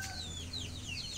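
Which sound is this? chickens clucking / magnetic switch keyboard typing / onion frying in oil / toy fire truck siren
chickens clucking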